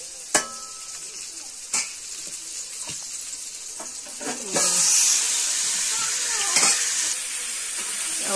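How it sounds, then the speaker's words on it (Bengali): Rohu fish frying with garlic, onion and cumin in a village-style curry: a few sharp utensil knocks and stirring scrapes, then a louder, steady sizzling hiss that swells midway and continues. "আবার মাছ ভালো করে কষিয়ে নেওয়া হবে রসুন আর পেঁয়াজের ভিতরে"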